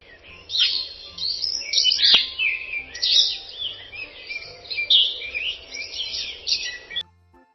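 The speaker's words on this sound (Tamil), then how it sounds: "கிளைகளில் பறவைகள் பாடி ஆடியது" Birds chirp and sing in a sunlit mango tree amid green forest, a steady stream of bright, overlapping tweets and calls close by with no talking, ending in near silence.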